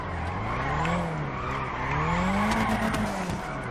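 A Nissan GT-R drifts on a track in GTA 5, its engine roaring continuously and loudly while the tires squeal in rising and falling pitch throughout.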